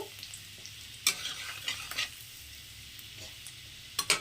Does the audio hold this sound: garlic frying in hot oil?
yes